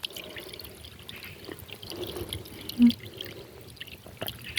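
Water trickles and drips from a natural spring, a soft, close, continuous babble with occasional brighter drops and no voices.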